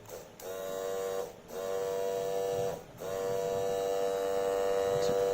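A small electric motor powered by a 12-volt battery whines at a steady pitch in three bursts, briefly stopping twice between runs, close and fairly quiet with no voices.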